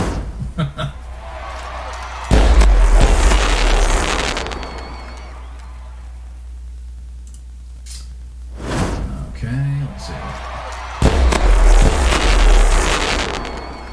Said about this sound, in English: I wasn't going to sit through all the fireworks for duplicates of Liam Hendriks and another George Springer